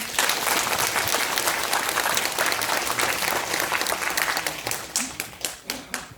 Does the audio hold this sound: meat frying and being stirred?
no